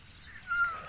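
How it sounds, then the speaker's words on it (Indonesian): A single short, hungry cat's meow, faint and brief, rising over quiet outdoor background near a fishing spot. "Ni ada kucing. Kucing ini lapar tapi saya tidak bawa makanan guys."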